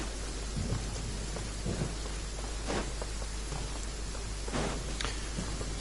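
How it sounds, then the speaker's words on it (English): A thunderstorm in the video game Genshin Impact, with heavy steady rain and several rolling thunder cracks breaking through a constant loud downpour, with no voices. "given we've got a lightning storm"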